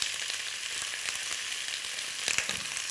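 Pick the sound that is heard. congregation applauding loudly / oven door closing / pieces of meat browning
pieces of meat browning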